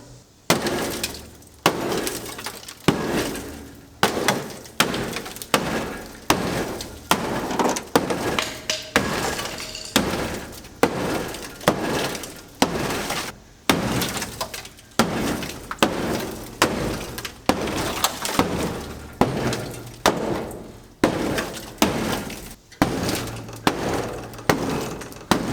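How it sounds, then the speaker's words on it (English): Sheet metal of a rusty car floor being hammered out, a dense run of loud, sharp metallic bangs and crunching impacts repeating steadily with brief pauses, close by and with no talk. "Why cut your rusty floors out when you can hammer them out?"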